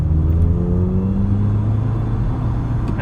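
Mk2 Cavalier with an SRi130 engine accelerating, a close, steady engine and road rumble with a rising tone from inside the car, alone with no talk.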